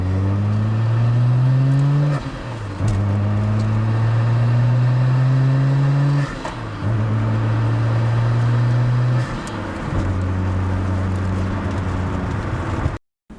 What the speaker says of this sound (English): the sound coming from this engine